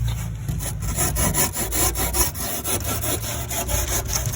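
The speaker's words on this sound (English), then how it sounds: "here I'm just rasping off the top of this to make sure it's at a downward angle" A hand rasp files down the top edge of a piece of insulation board below a damp course, producing loud, close, rhythmic scraping strokes in a steady back-and-forth pattern with no speech.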